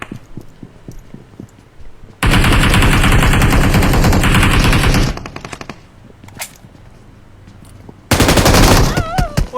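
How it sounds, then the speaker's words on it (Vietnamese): Loud automatic gunfire rattles in rapid continuous bursts during a solo-versus-squad battle royale shooter match, one long burst of about three seconds, then scattered single shots, then another sustained burst. "Ôi nó bắn kinh thế."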